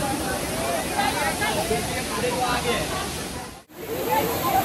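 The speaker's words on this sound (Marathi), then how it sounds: "हा पुरा वॉटरफॉलचा तुम्ही नजारा बघू शकता." Palasdari waterfall near Karjat pours in a steady, loud broadband roar close by, continuous throughout with a brief dip near the end, while faint voices murmur beneath.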